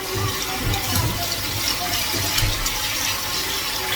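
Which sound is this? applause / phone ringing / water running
water running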